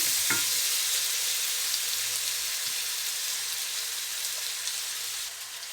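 Eggplant bhartha mixture fries in a pan with a steady, loud broadband sizzle that holds for the whole stretch, broken by a few faint stirring scrapes and knocks, with no talking.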